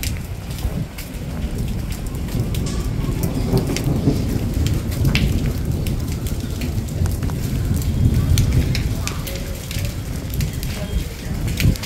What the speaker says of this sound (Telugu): ఎంతెంత వాన పడుతుంది